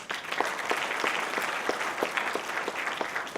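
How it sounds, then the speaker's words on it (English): Audience applause at an awards night, a dense, steady clapping from a crowd that holds at an even level throughout with no voices over it. "Big round of applause, please."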